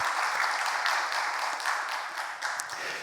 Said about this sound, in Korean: 우리 한 박수 한번 해요, 그분들 위해서